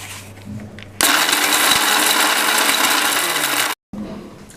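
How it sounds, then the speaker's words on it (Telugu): Mixer grinder grinding cooled roasted spices, starting abruptly into a loud steady whirring roar with rattling for nearly three seconds, then cutting off sharply; quieter kitchen sounds before and after. "చల్లారిన స్పైసెస్ అన్ని మిక్సీ పట్టుకుందాం"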